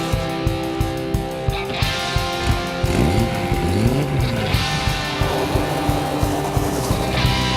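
A Ford Cortina drives past with a pulsing engine note over a rhythmic, regular beat of music, the engine swelling and receding, fairly loud and close.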